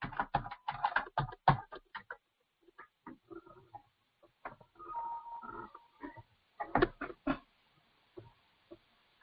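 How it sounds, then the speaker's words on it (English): Login details tapped out on a computer keyboard in quick bursts of close, clicky keystrokes broken by short pauses, with no voices. "I'm entering my username and my password."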